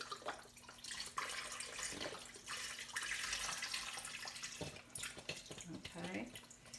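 Water pours steadily over chicken in a pot for homemade bone broth, a continuous splashing, gurgling stream close by with shifting intensity and brief dips in flow.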